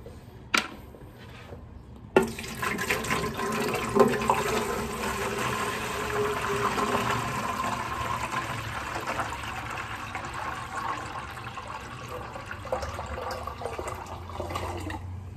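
Water poured into an angelfish aquarium, a steady splashing gush after a brief handling clatter, continuing evenly at moderate volume for many seconds with no talking.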